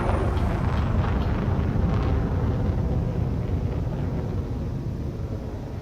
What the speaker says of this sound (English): Afterburners engaged.